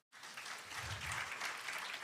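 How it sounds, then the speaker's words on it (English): Audience applause at a live public forum on transparent leadership, debt and anti-corruption, starting abruptly and holding as steady, dense clapping for the full two seconds, fairly loud with no voices over it. "So please clap for yourself."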